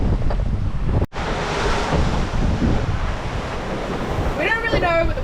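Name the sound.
genoa sail flapping in the wind while sailing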